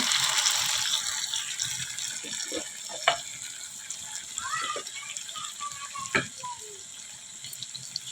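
Water poured into masala frying in oil for a paneer curry, the sizzle surging into a steady hiss with a few sharp spatters and clinks, heard close throughout the clip.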